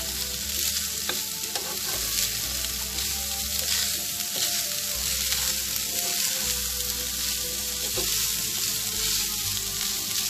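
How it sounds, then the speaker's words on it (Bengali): Fried rice (nasi goreng) frying in a hot pan, with a steady, close, loud sizzle broken by scattered clinks and scrapes of stirring throughout. "এটাকে কিছুক্ষণ ভেজে নেব।"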